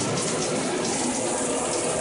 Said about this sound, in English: We're going to turn the water on. Get it flowing nice and good.